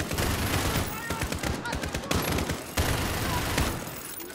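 A minigun roars in rapid continuous bursts during a Call of Duty: Modern Warfare campaign firefight, loud and close, with the dense rattle filling nearly the whole clip and barely pausing.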